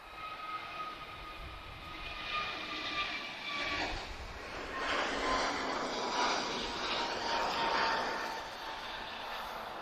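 An Airbus A321neo airliner at Lisbon Airport, its engines a broad roar that swells and holds steady at moderate distance, with no talking.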